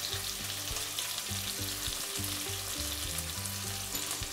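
Spring onion and prawns for a pulao sauté in a pan with a steady, dense sizzle that carries on without a break, with faint tonal background music underneath and no voices.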